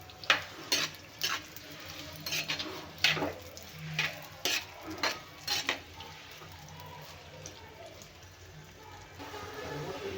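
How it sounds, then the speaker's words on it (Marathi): Finely chopped onions frying in hot oil for a mutton dish, a soft continuous sizzle under repeated scraping and stirring clatters of a utensil against the pan, fairly quiet and close. "आता तेल झालेलं आहे गरम तर आपण हे कांदे घालूया"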